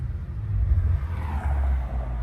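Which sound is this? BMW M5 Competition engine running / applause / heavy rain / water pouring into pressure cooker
BMW M5 Competition engine running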